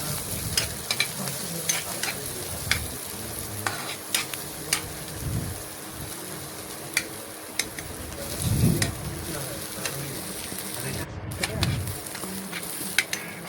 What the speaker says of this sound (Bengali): পেঁয়াজটাও নাড়াচাড়া করে মিশিয়ে নেব